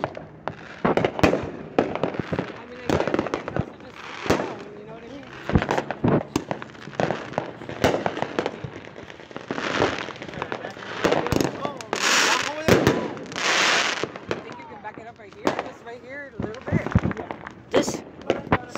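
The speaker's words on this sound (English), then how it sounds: "There's a lot of fireworks popping." Fireworks and firecrackers pop and crackle through a 4th of July celebration, with dense, irregular bursts, some sharp and near, others overlapping, continuing across the whole stretch while voices talk and shout among them.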